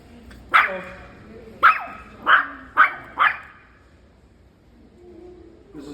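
A dog barks at another dog during a dog training class: five sharp, close barks spaced about a second apart, with a soft yip after them and quiet room noise between.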